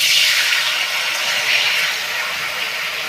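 Water pours steadily into a wok for boiling watermelon rinds, a loud, close, continuous gushing splash that eases slightly toward the end.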